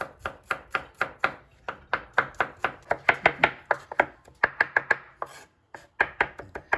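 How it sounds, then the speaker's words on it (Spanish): A knife chops four garlic cloves as finely as possible on a cutting board, giving a brisk, steady run of sharp close-up taps with a few brief pauses, and no voices. "Voy a picar los 4 dientes de ajo lo más delgadito posible."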